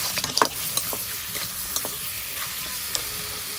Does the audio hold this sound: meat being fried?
yes